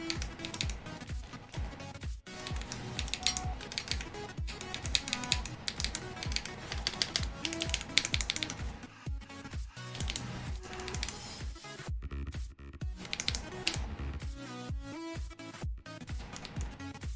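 Keys clack on a custom-built Space 65 mechanical keyboard with stabilized keycaps, close and crisp, as rapid bursts of presses are broken by short pauses and a few isolated heavier taps.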